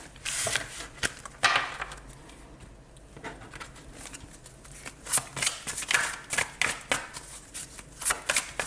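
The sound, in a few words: tarot cards being gathered and shuffled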